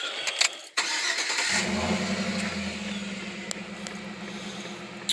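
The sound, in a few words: truck engine starting after throttle body coolant hose bypass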